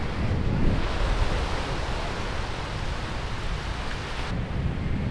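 Ocean waves wash in at a beach as a constant loud roar of surf, broad and noisy, with no talking.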